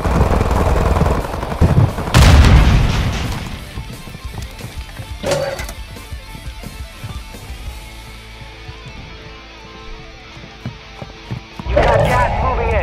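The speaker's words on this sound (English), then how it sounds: "I heard the gunshots." Bursts of gunfire in a Call of Duty Resurgence solos match on the Vondel map, loud volleys near the start and around the two-second mark, later sparse distant shots under steady game ambience and occasional voice lines.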